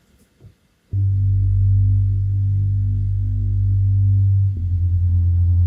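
Bass City, a synth bass preset from Arturia Pigments, processed with EQ and reverb, enters after a brief faint click and holds a deep, loud sustained tone that shifts to a new note near the end.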